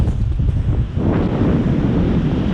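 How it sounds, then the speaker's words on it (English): Strong, gusty coastal wind buffets the microphone in a dense, continuous roar, with surf washing underneath throughout. "Alright, enough of that wind. It was vicious."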